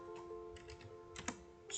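Computer keyboard keys tapped in short bursts while setting up dynamic BGP routing, a few soft clicks clustering into quick runs over a steady electronic hum, close and fairly quiet.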